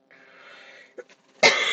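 A single harsh cough bursts out loudly near the end, after a faint murmur and a brief soft sound.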